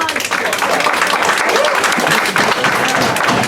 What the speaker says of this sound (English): there will be no applause